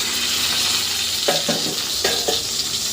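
Pumpkin and eggplant slices sizzle and crackle steadily in hot oil, with a few scraping stirs of a utensil against the pan.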